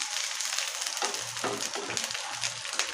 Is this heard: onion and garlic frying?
yes